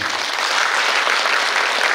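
A crowd at a 79th Liberation Day ceremony in Korea applauds the family of an honoured independence patriot: brief, loud, continuous clapping from many hands, even and unbroken.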